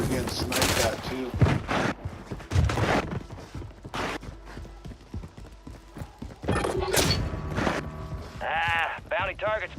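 Gunfire and sniper shots in the video game Warzone come as bursts of sharp shots and rapid fire mixed with game effects, moderately loud, while players talk over much of it.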